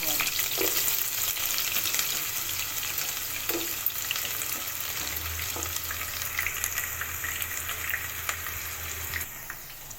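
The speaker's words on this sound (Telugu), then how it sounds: "తర్వాత అదే ఆయిల్లో ముక్కలు వేసి ఫ్రై చేసుకోవాలి" Pieces frying in oil give a continuous loud sizzle and crackle up close, with occasional clinks of stirring and a low hum in the background.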